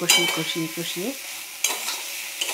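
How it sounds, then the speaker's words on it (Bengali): Pointed gourd and mustard paste are stirred in a pan, giving short scraping strokes and a soft sizzle. The sounds come close up in brief bursts with quiet gaps between them. "পটল আর সর্ষে ভালো করে কষিয়ে"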